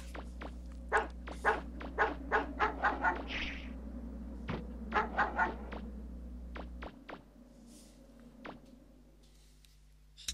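A game dog in MegaMan 64 barks in a quick run of sharp, repeated yaps, several bursts in close succession, fairly near, with an ambient game hum beneath.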